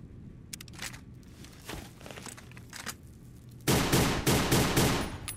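Unsuppressed automatic weapon fire in Fallout: New Vegas, first scattered shots and short bursts amid quieter movement, then a loud rapid stream of rounds in the final seconds.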